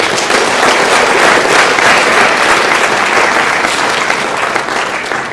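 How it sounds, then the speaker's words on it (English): Sustained applause from an audience at a spring sports awards ceremony, dense steady clapping filling the room for several seconds before easing slightly at the end. "Let's give all those people a round of applause"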